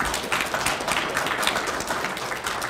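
An audience at a speech by Ohio Lt. Governor Lee Fisher breaks into applause, a dense, even wash of clapping hands that holds steady throughout without voices.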